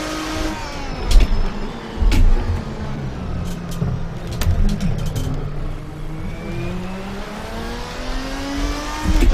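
A Studio GT mod race car lapping in Assetto Corsa, its engine loud and close, with rising and falling revs through gear changes and steady driving under a continuous roar.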